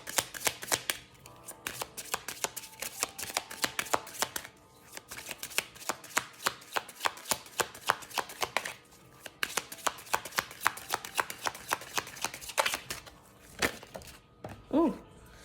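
Tarot cards shuffled by hand in long runs of quick, crisp riffling taps, close and fairly quiet, with brief pauses between bursts and a short voice near the end.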